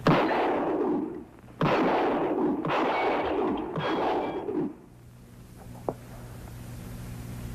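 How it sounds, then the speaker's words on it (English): A trick shooter fires a rapid series of loud gunshots in an old western setting, sharp cracks with rolling reverberant tails, followed by a faint trailing echo and a single distant pop before quiet. "I never saw shooting like that before."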